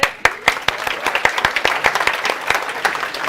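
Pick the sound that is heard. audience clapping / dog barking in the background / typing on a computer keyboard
audience clapping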